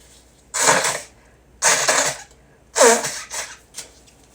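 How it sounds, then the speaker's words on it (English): Three loud, forceful nose blows, close up, each a noisy burst with short pauses between, followed by a softer sniff. "I gotta blow my nose"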